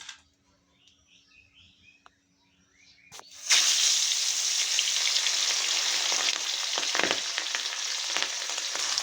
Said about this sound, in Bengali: তেল আমার খুব ভালো করে গরম হয়ে গেছে আর মাছগুলো এখন ভেজে নেব